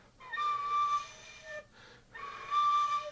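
Tin whistle blown by a stroke patient with only one side of the mouth working, giving an unsteady, impure tone: two breathy, wavering notes with a pause between, close and alone.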